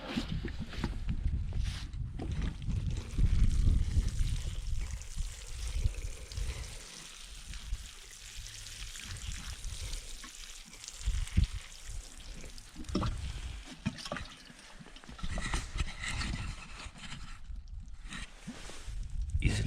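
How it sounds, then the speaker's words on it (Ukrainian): Water poured onto newly planted strawberry shoots, an uneven splashing and trickling that comes and goes over several seconds, close and fairly quiet, with some handling noise. "Зараз полиємо водою."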